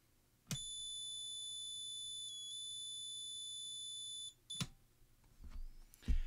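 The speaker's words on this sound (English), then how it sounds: "The device I'm plugging in is an LAP socket tester, which shows two flashing green LEDs and makes a noise if the socket is wired correctly." A plug-in mains socket tester on a correctly wired UK socket gives a steady high-pitched electronic tone lasting about four seconds, preceded and followed by sharp plugging clicks and faint handling noise.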